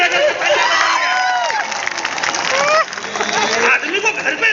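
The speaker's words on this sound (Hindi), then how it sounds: "आपकी तालियां जरा दोनों हाथ खड़े करके तालियां बजाइए।" An audience at a Hindi comedy poetry gathering in Raipur cheers and claps, a loud, dense crowd roar with whoops and whistles layered over continuous clapping.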